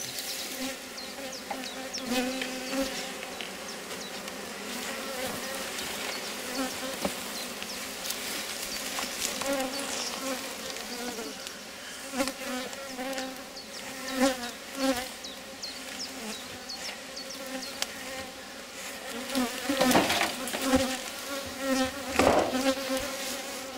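Honeybees swarm around an open Rose hive during an inspection, producing a dense, steady buzzing hum close by, with individual bees droning past and a few louder swells near the end.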